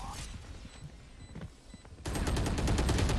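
Gunfire in a tactical shooter match, with scattered quieter shots early on and then a loud, dense burst of rapid repeated shots that carries steadily to the end.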